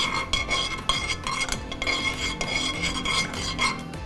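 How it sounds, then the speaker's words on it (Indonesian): A skin-care mixture with a little water is stirred in a pan, a spoon scraping the metal in quick, rhythmic strokes at close range, with no talk. "Lalu tambahkan sedikit air. Aduk terus. Jangan sampai gosong."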